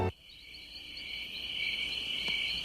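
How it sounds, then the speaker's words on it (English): Insects such as crickets chirp in a continuous high, shimmering drone that holds steady throughout, fairly faint but clear, with no voices. "Hear that? Insects are everywhere."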